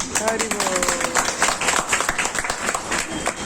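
An audience at a religious discourse breaks into sustained applause, dense clapping from many hands filling the room with a speaking voice over it.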